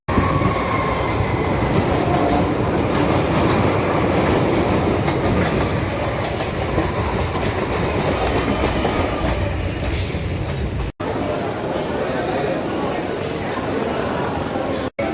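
A train pulls into Sealdah station in Kolkata at platform 10, with a loud, continuous rumble and clatter of wheels on rails, a faint squeal and a steady roar throughout.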